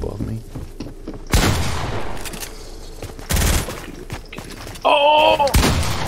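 Several sharp bursts of gunfire in the video game Fortnite crack out between quieter stretches, with short voice sounds mixed in.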